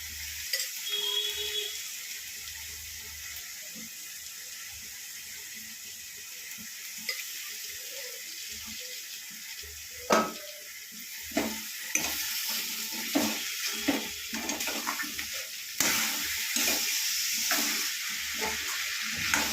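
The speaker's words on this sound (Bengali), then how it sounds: "এবার ভালো করে এটাকে নেড়ে চেড়ে এটাকে ভালো করে মিশিয়ে নিচ্ছে মা" Banana stem curry is stirred and mixed in a pan over a low flame, with a soft continuous sizzle and intermittent spatula knocks and scrapes that grow more frequent and louder in the second half.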